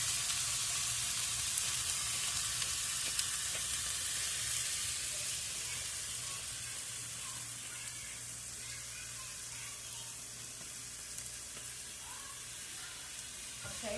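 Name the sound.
burger patties frying in a pan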